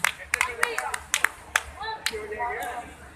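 Audience clapping welcomes a guest at a charity celebrity event, a short burst of separate, fairly close hand claps under a speaking voice.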